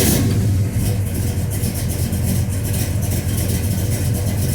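A car engine running steadily and loudly up close after cranking, a rough cold-start drone with slight surges in revs throughout, no talking.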